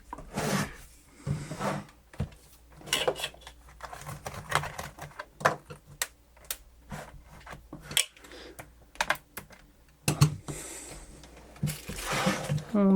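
Close, irregular clicks, snaps and scraping as a plastic pry tool works around the latches of a Lenovo T460 laptop, with scattered sharp pops between quieter rubbing, and someone speaks intermittently over it.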